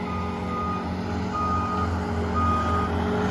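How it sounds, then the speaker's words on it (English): A big truck reverses at a house build site during driveway grading, its backup alarm beeping steadily and repeatedly over a low rumbling diesel engine nearby. "They've done multiple loads with big trucks."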